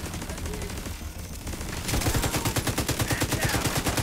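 An automated turret in The Division 2 opens fire on an enemy, a quieter patter of shots giving way to a loud, steady rapid-fire stream of gunshots with a regular rhythm through the second half.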